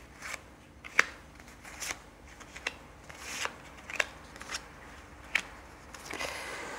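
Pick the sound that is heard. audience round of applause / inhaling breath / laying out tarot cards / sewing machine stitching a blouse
laying out tarot cards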